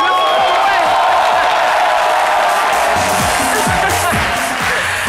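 A studio audience in a French television show cheers and applauds in a loud, continuous roar of crowd noise, with shouts and whoops rising above the clapping and a voice speaking briefly near the end.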